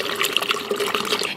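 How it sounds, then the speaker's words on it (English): Tap water running steadily into a Stanley cup to mix a protein drink, a continuous close splashing fill with no pauses and no voices. "Add in my water."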